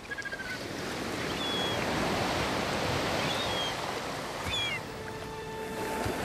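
Ocean waves break steadily on a beach where bears gather to wait for returning salmon, a loud continuous surf wash with a few faint high calls above it.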